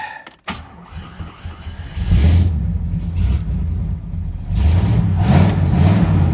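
A 1968 Ford XL's engine is revved for a burnout after a brief sharp click, its deep rumble rising in two strong surges, loud and close, with no voices over it.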